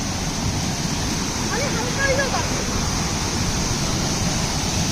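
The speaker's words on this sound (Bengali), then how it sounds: "বিলাসী ঝর্ণার কি বিলাসী রূপ" Bilashi waterfall pours in a dense, unbroken roar of rushing water, loud and close throughout, with a faint voice briefly underneath.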